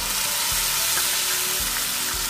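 Onions, ginger garlic paste and tomato fry in a pan for a raw banana curry, a steady loud sizzle running throughout with a few soft stirring scrapes and no talking.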